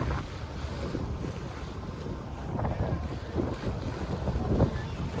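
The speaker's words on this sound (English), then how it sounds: "it has been extremely windy here" Steady strong wind roaring across the microphone, low rumbling gusts rising and falling, with faint water or surf beneath and no talk.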